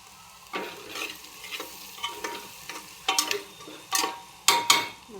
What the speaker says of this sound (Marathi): बरे छान फ्राय होत आहेत